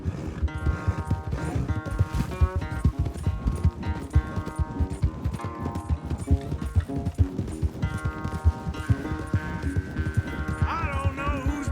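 Horses galloping in a race in Red Dead Redemption 2: a steady, busy clip-clop of hooves running throughout, close and loud, layered under game music with occasional faint voices.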